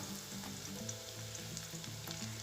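Onions sauté in a pan with salt, chili powder and turmeric powder for a garlic pepper kuzhambu, giving a soft, faint, steady sizzle over a low, humming background.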